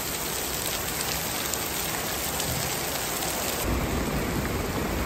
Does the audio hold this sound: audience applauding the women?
no